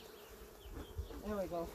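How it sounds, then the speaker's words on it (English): Honey bees buzz in a steady swarm around the side of a crowded beehive, a close continuous drone while someone talks briefly over it. "there's so many bees on the side of this hive"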